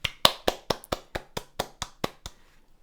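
A single person clapping about ten times in a steady, close, dry rhythm, each clap distinct, then stopping into silence.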